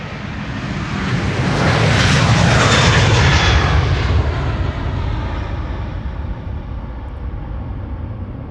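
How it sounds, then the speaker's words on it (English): A KLM Airbus A330-300 jet airliner at Amsterdam Schiphol Airport, a loud broad engine roar that swells as it passes close by, then slowly fades, with no talking. "This is has been KLM flight 677 to Calgary. One of the A330-300s."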